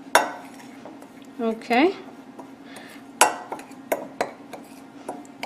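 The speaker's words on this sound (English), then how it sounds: "1 tablespoon of crushed powdered cardamom, and I'll just mix it all together well." Powdered cardamom is stirred into cardamom date walnut cake batter in a bowl, with a spoon scraping and clinking against the bowl in irregular taps, near and fairly quiet, and a brief spoken word.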